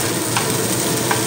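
Small chopped onion frying in oil with black cumin over a medium gas flame, giving a steady, close sizzle throughout with a couple of light stirring scrapes.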